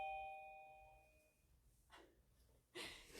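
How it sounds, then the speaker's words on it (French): A doorbell sounds as someone enters a workshop. A two-tone chime rings out at the start and fades, and after it come a couple of faint, muffled knocks or movements. No one speaks. "on entend Ding Dong."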